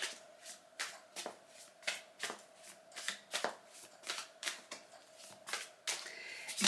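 Tarot cards are shuffled in quick, crisp bursts, a steady run of riffling snaps and slaps close to the listener against a quiet background.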